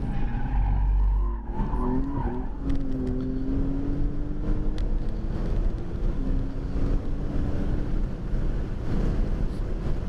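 A 2016 BMW M3 and a 2015 Nissan GT-R brake hard at Buttonwillow Raceway, configuration 13CW. From inside the car, tires squeal in rising, sliding tones over a steady roar of engine and wind noise.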